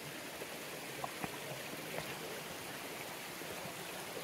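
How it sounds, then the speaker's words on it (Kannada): Koodlu Teertha waterfall near Agumbe, Karnataka, flowing in summer: a steady, broadband rush of falling water holds throughout, even and continuous, with a few faint clicks above it and no voices. "ಏನು ವಾಟರ್ ಫಾಲ್ಸ್ ಗುರು ಇದು"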